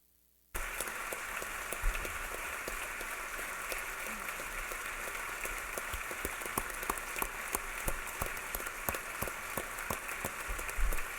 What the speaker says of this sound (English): Will you please join me in applauding their bravery?